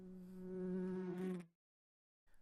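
Loud, steady insect-like buzzing drone coming from the top of a large oak tree in a forest clearing, sustained for about a second and a half before cutting to silence.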